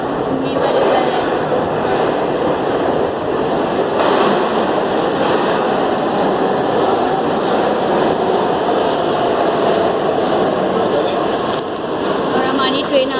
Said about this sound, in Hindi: और हमारी ट्रेन आ चुकी है।